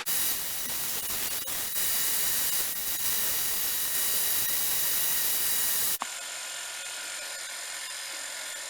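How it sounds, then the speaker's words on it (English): Sanding a 3D printed pen gives a steady, loud, close hiss lasting about six seconds, then it cuts to a quieter, thinner hiss. "I'm going to sand it down."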